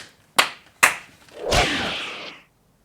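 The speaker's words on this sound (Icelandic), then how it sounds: "Nú ætla ég hann að kluppa, ég byrjaði að klappa." Two sharp hand claps in quick succession, followed by a longer breathy rushing noise, close and alone.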